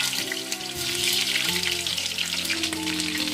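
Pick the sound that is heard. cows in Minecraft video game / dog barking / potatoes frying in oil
potatoes frying in oil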